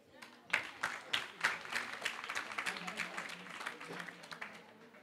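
Audience applause at a school debate on abolishing corporal punishment: a burst of dense, crisp clapping that swells early and stays busy and steady for several seconds, with faint voices underneath.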